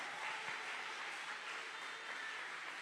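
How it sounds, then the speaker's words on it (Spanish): A church congregation applauds in praise, a soft, distant, even wash of clapping heard at low level throughout. "Denle un aplauso a su Dios."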